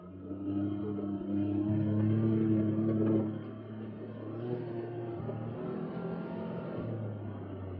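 Arctic Cat Wildcat XX side-by-side driving with a steady engine drone that swells briefly, then settles into a continuous hum, heard from onboard.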